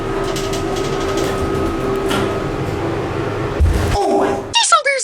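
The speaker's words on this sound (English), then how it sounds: "Wow, what a big jolt that was." A 1998 Montgomery Kone hydraulic elevator in College Station, Texas, drones steadily under a fan hum, then gives a sudden low thumping jolt. A startled voice cries out right after.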